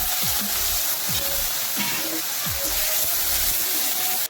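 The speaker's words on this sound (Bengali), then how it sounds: "তেলটা গরম হয়ে গেছে, গরম তেলে উচ্ছেটা দিয়ে খুব ভালো মতো করে ভেজে নিচ্ছি।" Pieces of bitter gourd fry in hot mustard oil in a wok, giving a continuous close sizzle broken by a few soft knocks and scrapes of stirring, with no voices.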